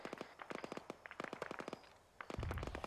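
Self-propelled artillery fire in the Arma 3 military shooter, heard as quick bursts of sharp cracking reports that come in clusters, some near and some far, with a low rumble building at the end.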